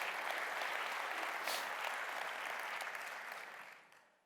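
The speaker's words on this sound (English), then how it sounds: "So give yourself just a round of applause." Steady audience applause at a general session presentation in Houston, a dense wash of many hands clapping that holds evenly and then fades out near the end, fairly faint and distant.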